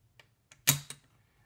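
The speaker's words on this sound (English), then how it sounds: "the next round you pull the trigger, it'll be that H&K click" A single crisp mechanical click from an SRC MP5 CO2 gas blowback airsoft gun dry-firing with the magazine empty, near and sharp, followed by a fainter second click, with a couple of soft handling ticks before it.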